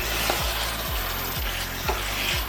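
Couscous royal sauce simmers in a pot while a spoon stirs it, a steady hiss and bubble under regular scraping strokes about twice a second, close up and without voices.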